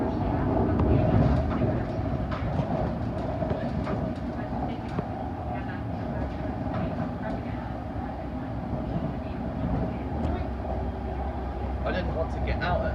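A London Underground Metropolitan Line train running between Aldgate and Uxbridge, with a continuous rumbling roar of wheels and motors, faint rail clatter and steady cabin noise throughout, close and even.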